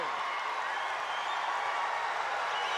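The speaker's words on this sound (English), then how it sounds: "The crowd are loving it." A boxing arena crowd at the Pacific Mini Games in Vanuatu roars in a sustained, even cheer with scattered clapping, a dense wash of noise filling the whole moment.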